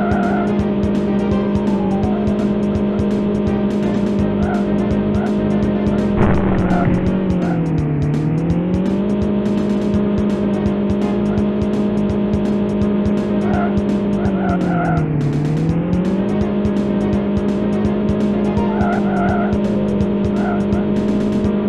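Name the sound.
kart racing from the video game Street Racer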